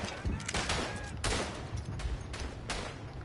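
Dense, continuous gunfire and overlapping shots from a Western Front battle in a video game, loud and sustained with several sharper bursts standing out over the constant barrage.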